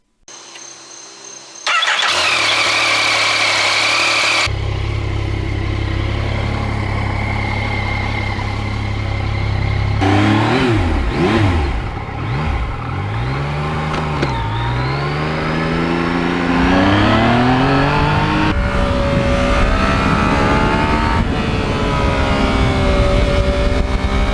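A 2020 Yamaha MT-09 motorcycle engine starts and runs close by, with a steady idle followed by rising and falling revs as it pulls away, loud and continuous with no talk.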